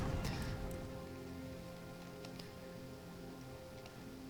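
Steady rain hiss with scattered light ticking drops in the video game Empire: Total War, continuous and fairly quiet, no talking.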